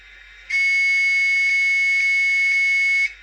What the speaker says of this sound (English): Some kind of horn.